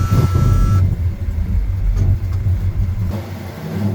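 A carbureted car with a freshly rebuilt 750 carburetor drives down a road, its engine a steady, loud, close rumble that surges slightly, with no talk.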